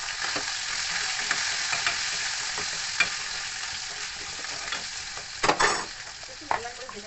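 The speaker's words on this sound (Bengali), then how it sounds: "আলুটা একটু লাল লাল করে ভেজে নেব অল্প।" Potatoes frying in oil with cumin seeds, a continuous close sizzle broken by a few sharp scrapes and knocks of stirring against the pan, no talking.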